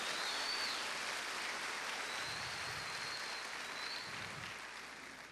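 A church congregation applauds in praise during a sermon, a soft, steady wash of many hands clapping at once, fairly distant and even, fading slightly toward the end with no talk over it.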